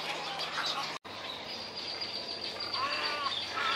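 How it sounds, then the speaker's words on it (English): White-throated sparrow singing outdoors on the upper Texas coast during spring migration, thin clear whistled notes rising over steady insect and bird chatter, moderately distant and alone without talk. "White-throated sparrow."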